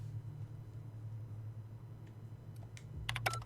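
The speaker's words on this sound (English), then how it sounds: "Why are you typing, Herbie?" Quiet, rapid keyboard typing in The Outer Worlds video game, a run of soft clicking keystrokes over a low steady hum, growing a little sharper and more distinct toward the end.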